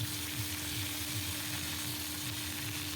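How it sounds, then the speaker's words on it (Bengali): Potatoes fry in a pan with a soft, continuous sizzle that holds steady throughout at low volume, with no voices. "আলুগুলো ভাজা ভাজা হয়ে গেলে"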